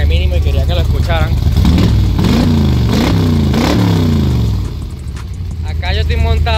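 Factory Five AC Cobra replica with over 500 hp, its engine revving loudly and roughly at close range, swelling and dropping in pitch while someone talks over it.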